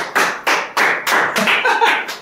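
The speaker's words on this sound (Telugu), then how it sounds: "అరే మీరు క్లాప్ హ్యాండ్స్ కొట్టు రే బాబు" Hands clap in a steady rhythm, about seven or eight sharp, loud claps at roughly even intervals, close and alone.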